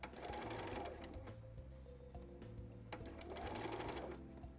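A sewing machine slowly stitching a fabric sleeve into its armhole, its motor running in a steady, continuous close-up hum with a faint rhythmic needle chatter and no voices.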